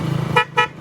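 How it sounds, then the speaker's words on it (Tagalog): Two short, loud motorcycle horn honks in quick succession over a steady engine hum. "taas malakas pa rin ang ating busina"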